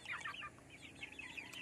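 Chickens give soft, quick clucks and chirpy calls, a faint, close scatter of short sounds over a brief moment with no talking.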